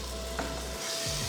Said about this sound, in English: So just give a quick mix.